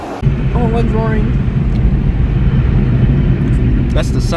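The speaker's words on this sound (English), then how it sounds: "That's the sound of a 737 taking off inside a car." A Boeing 737 taking off near LAX, heard from inside a car: a steady, loud, low roar fills the cabin, with a few brief higher tones at the start and end.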